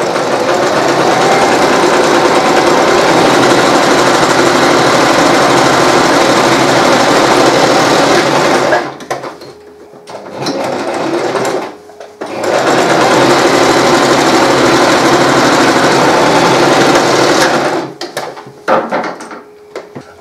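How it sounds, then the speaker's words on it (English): A sewing machine runs a zigzag stitch joining surcoat fabric for a medieval knight's garment, whirring loudly in long continuous bursts with brief pauses between runs and no talking. "I'm using a zigzag stitch, and then I'm top stitching that with a straight stitch to provide maximum strength."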